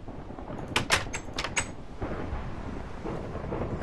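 A door opening in a video game adventure map, heard as a burst of sharp metallic clanks followed by a deep rumbling grind that carries on steadily, with no voices.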